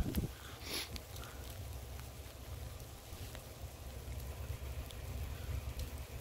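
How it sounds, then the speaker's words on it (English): Meltwater from a snowy roof drips and splashes steadily over a constant wet rushing wash, with a low rumble underneath and no voices. "Water is landing right here. All the snow has melted on top."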